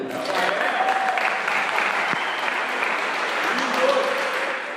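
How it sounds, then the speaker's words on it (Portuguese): Audience applause in a church setting for a young cavaquinho player, a steady wash of many hands clapping at moderate loudness for several seconds, with a few voices faintly underneath. "Vamos dar uma salva de palmas para ele?"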